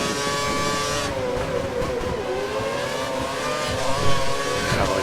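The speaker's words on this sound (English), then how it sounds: "let's take that full throttle" Formula 1 car from F1 2013 at the Australian Grand Prix accelerating at full throttle, a steady high engine whine rising and shifting through gears, with another car's engine briefly surging nearby near the end.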